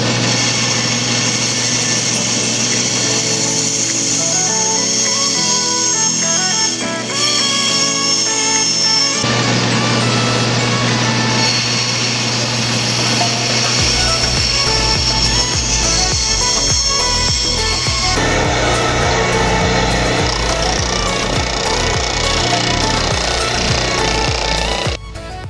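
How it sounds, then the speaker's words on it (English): A bandsaw cuts a wooden baseball bookend piece with a steady high whine, and after a break a sander takes over with a rougher, buzzing drone. Both run loud and close with no voices. "Take it over to the bandsaw, cut this out, and then over to the sander."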